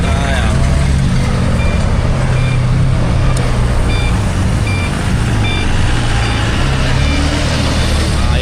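Heavy highway traffic roars close and loud, with trucks rumbling past and a reversing beep repeating through the constant noise.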